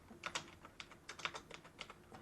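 Quick, irregular keystrokes on a computer keyboard as a file path is entered, with crisp close clicks in short bursts and no voice over them.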